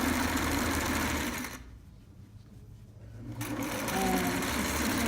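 A sewing machine top stitches a trapper hat in rapid, steady bursts, running close and loud, stopping for about two seconds mid-clip, then resuming at the same pace.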